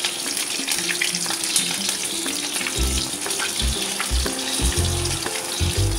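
Saplar pakoras (Bengali water-lily stem fritters) sizzle steadily in hot oil, with scattered clinks and low scraping thumps as the pieces are turned in the pan; no talking.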